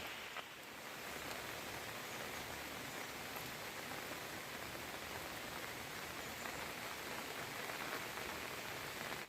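Heavy monsoon rain pours steadily on a Konkan village, a dense unbroken hiss at even loudness throughout with no voices.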